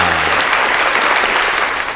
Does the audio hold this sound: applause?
yes